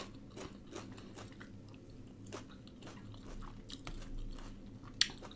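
Someone eats spicy ramen noodle salad with pork sausage, giving soft close-up chewing and crunchy bites, quiet and irregular with a sharper snap near the end and no speech.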